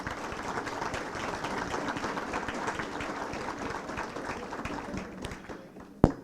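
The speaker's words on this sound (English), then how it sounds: "Please, let's have a round of applause for them." A round of applause for corporate sponsors at a firemen's association presidential celebration: steady, dense clapping from a large crowd, continuous throughout with one sharper clap near the end.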